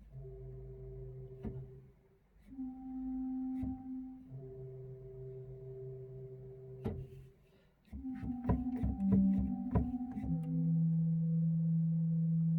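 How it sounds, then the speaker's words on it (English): Pipe organ bass flute stop played on the pedal board: soft, sustained low flute-like notes, held one after another with short gaps, then a quicker run of shorter notes near the end, alone with no talk. "The first of our 3 stops on the pedal organ is a bass flute"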